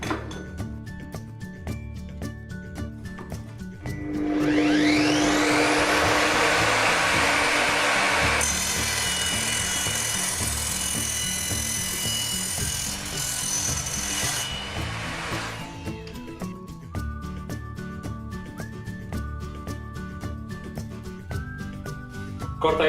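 An Evolution R255 10-inch sliding mitre saw cuts through copper and 5 mm thick iron angle: the motor whines up, then a loud, harsh grinding cut runs for about ten seconds before it winds down, with steady background music throughout.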